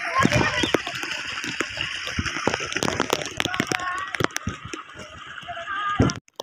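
Children splash in a small waterfall in a village rice-farming area. Rushing water mixes with irregular nearby splashes and slaps that continue throughout.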